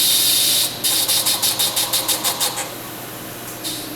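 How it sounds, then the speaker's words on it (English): An IDI 303 dispensing pump running a dispense: a loud steady hiss, then about ten evenly spaced pulsing strokes that stop, leaving a quiet hum with a brief hiss near the end, close by and without speech. "So I'll do another dispense on pump number 1"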